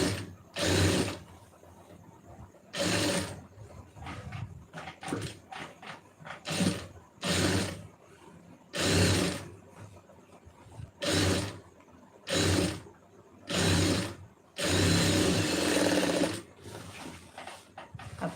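A sewing machine stitches a lining blouse in repeated short bursts of rapid mechanical clatter, each lasting a second or two with quiet pauses between, close by and with no talk.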